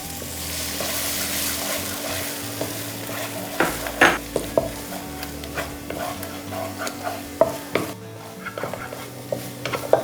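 Three beaten eggs hiss and sizzle in a pan with onion, tomato and green peas, while a spoon scrapes and clinks against the pan in irregular bursts; no voices are heard.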